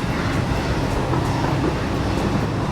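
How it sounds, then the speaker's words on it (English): A train rolls past in the factory-building video game Satisfactory, a steady, loud broadband rumble that holds evenly for a few seconds with no voices over it. "I think I hear a train."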